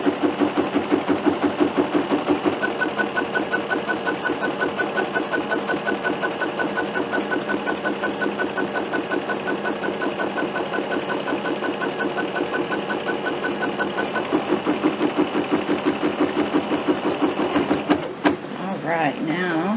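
A sewing machine quilts little star patterns onto fabric for bunting, a steady, fast mechanical stitching chatter running loud and close for most of the time before stopping with a couple of clunks near the end.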